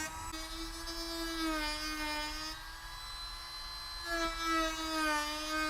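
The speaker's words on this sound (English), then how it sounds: "With all the sanding done" A power sander smooths cut-outs on a Club Car Tempo golf cart body for an RGB LED light kit, a steady whining hum that rises and dips slightly in pitch, continuous and moderately quiet.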